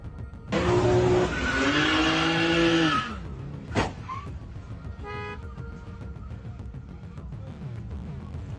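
A car engine roars with a long tire squeal for a few seconds during a burnout, then a sharp crash-like impact as it hits another car's bumper, followed by a brief mechanical clatter and low background noise.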